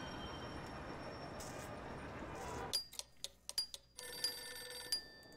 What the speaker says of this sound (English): My phone is a-ringing